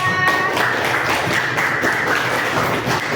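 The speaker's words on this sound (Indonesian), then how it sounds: "Tepuk tangan untuk kelompok 3." Group applause from class participants in a teacher-training session, steady dense clapping sustained throughout at close range with no talk over it.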